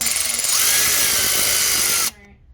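A power tool whirs steadily for about two seconds while tightening water pump bolts on a 1.4 liter Chevrolet Cruze, close and loud, then stops abruptly.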